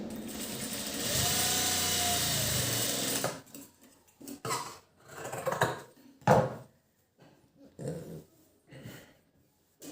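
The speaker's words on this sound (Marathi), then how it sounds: "आपण डबल शिलाई देऊया" A sewing machine stitching a double seam on a blouse: a steady, loud mechanical whir for about three seconds, then stops and gives way to scattered clicks and handling noises.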